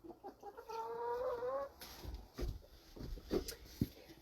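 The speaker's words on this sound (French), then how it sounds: "Espèce de petit poulet tannant." A chicken clucks and trills near a country house on a Saturday morning, followed by scattered thumps and clatter of household movement, with a faint background hum.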